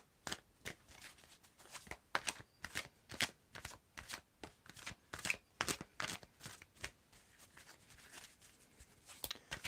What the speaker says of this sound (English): Diane, you need to tell me when to stop shuffling